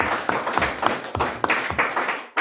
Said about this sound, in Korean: 한번 그 헌신하신 분들에게 감사 박수 드립니다.